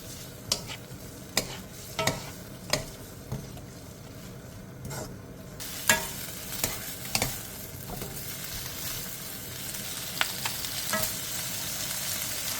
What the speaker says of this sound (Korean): 팬에 기름을 두른 뒤 재워놓은 고사리를 넣고 중불에서 2분에서 3분간 볶아주세요